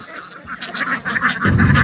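A short-necked white duck on a homestead gives a rapid series of loud, raspy quacks close by, running together in a brief burst with some barnyard rustle underneath.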